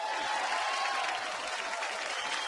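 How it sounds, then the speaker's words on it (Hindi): A studio audience on a comedy talk show gives actor Anil Kapoor loud, sustained applause, a thick, even roar of clapping with no break. "एक बार अनिल कपूर साहब के लिए जोरदार तालियां।"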